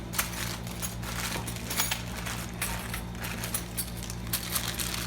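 A bag holding about fifty loose Toyota car keys is handled, giving repeated small metallic clinks and jingles over a steady low hum, fairly quiet and close.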